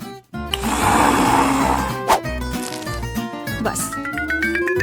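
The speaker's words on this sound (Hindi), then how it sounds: "इन सबको बस एक ब्लेंडर में अच्छी तरह से फेंटने की जरूरत है" A blender whirs loudly and steadily while mixing a sauce, its motor pitch dipping briefly and then rising again as it runs.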